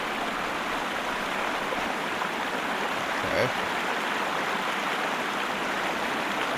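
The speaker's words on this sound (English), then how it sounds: "Damn, that water's loud." Loud rushing water in the video game Sherlock Holmes: Crimes and Punishments at old Roman ruins, a constant broadband roar filling the scene, with a brief spoken word partway through.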